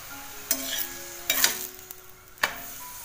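Onion paratha cooks on a hot griddle with ghee over high gas, giving a steady close sizzle broken by three sharp spatula scrapes or taps. No voices.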